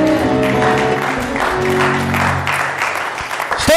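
A church congregation breaks into applause during a sermon, sustained and loud clapping alongside tonal music, with a few sharp claps near the end.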